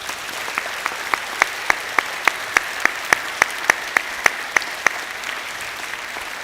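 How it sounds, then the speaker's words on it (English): A school assembly audience claps in a slow, regular rhythm, with crisp claps landing about three times per second over a soft background murmur before the beat trails off. "Let's give these guys a round of applause."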